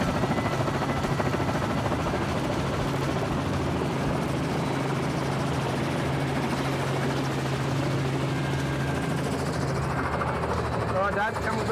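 A helicopter flying into a small, secluded fishing spot in remote Cape York, Australia, drones steadily with a constant rotor thrum throughout. Its noise stays loud and close, without pause.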